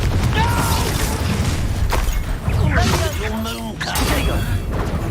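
A Confringo fire spell blast in Hogwarts Legacy: loud crackling bursts and booming impacts in a dense combat mix, with characters shouting throughout.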